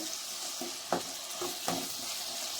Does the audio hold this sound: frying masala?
yes